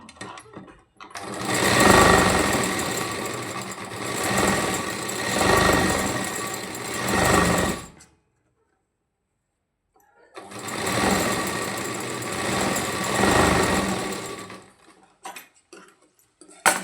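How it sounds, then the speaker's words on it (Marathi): Sewing machine topstitching along a fabric lining while stitching a pentagon-shaped neckline, running loud and close in two long steady bursts separated by a brief pause. "आता आपण खालच्या बाजूला देखील दाबटीप देऊन घेऊ आणि संपूर्ण जे काही अस्तर आहे ते जॉईंट करून घेऊ"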